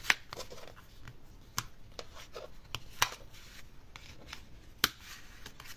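Paper being creased by hand while folding a hexagonal card, soft rubbing and sliding with a handful of crisp sharp snaps as folds are pressed flat, close and quiet, no talk.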